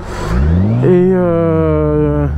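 A motorcycle engine revs up loudly nearby, its pitch climbing steadily then holding as it accelerates along the road.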